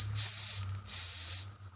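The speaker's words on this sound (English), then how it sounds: "Whistle works fine" Two sustained blasts from the steam whistle on a Jensen #35 live steam engine, each sharp, shrill and about half a second long, separated by a short pause, with a faint low hiss and rumble underneath.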